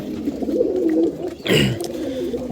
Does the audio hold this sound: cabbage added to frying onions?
no